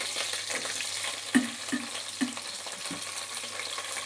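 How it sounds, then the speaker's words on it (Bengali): Okra sizzles steadily in hot oil, broken by a few light clicks and knocks of stirring. "প্রথমে একটু ভাজা করে নেবো ঢ্যাঁড়সগুলোকে।"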